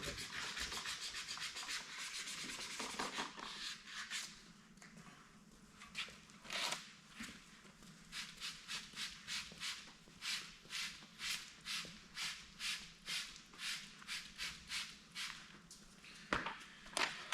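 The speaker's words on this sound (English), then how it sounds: "after you get done wet sanding it" Quiet rhythmic rubbing strokes of wet sanding by hand with 600 grit sandpaper on a 1932 roadster, back-and-forth scrapes repeating at a steady pace, faint and close, with no voices.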